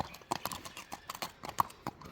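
A horse being walked, its hooves clip-clopping in an uneven rhythm of light knocks on hard ground, fairly close but quiet, with faint background voices.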